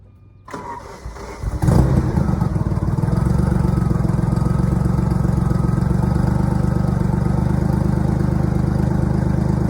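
A 14K-mile 1987 Ferrari Testarossa with a 5-speed manual cranks over and fires up. Its engine then settles into a loud, steady, close-up idle that runs uninterrupted, with no talking.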